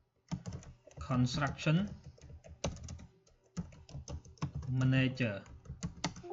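Typing on a computer keyboard: quick clusters of sharp, close key taps with irregular pauses, mixed in with a person speaking.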